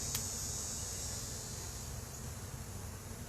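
Faint, steady buzzing of honey bees around a hive, a soft continuous hum with no voices.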